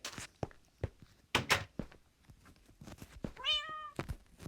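A cat in the Minecraft video game gives one clear meow near the end, following scattered thumps and clicks like footsteps, with no talking.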